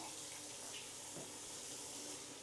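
Tap water runs steadily into a sink in a Lekki shortlet apartment's bathroom, a constant soft hiss heard up close with no talking.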